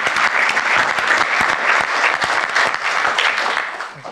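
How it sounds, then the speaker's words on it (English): Audience applause for two young people, a university student and a technical services worker, being introduced at a skills event; loud, dense, steady clapping throughout, fading slightly at the end. "Give an applause for these two young people"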